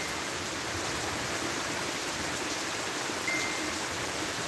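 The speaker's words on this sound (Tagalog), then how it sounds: "Sobrang lakas ng ulan." Heavy rain pours down in a rural Albay province setting: a dense, steady hiss of downpour fills the whole stretch evenly and loudly, with no voices over it.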